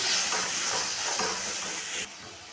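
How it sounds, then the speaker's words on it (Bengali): Ground spice paste sizzles and hisses in hot oil while it is fried for pumpkin chhakka, a dense, steady crackling fry close up that drops suddenly in loudness near the end. "দিয়ে দিলাম গুলে রাখা মশলাটা দিয়ে ভালো করে কষিয়ে নেব"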